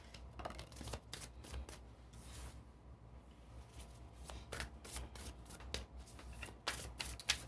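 Tarot cards shuffled briskly and continuously, with repeated crisp riffles and flutters, close up and fairly loud, no talking.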